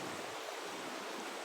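Floodwater rushing through a rain-damaged village, a steady broadband wash of flowing water heard close and continuous with no talking.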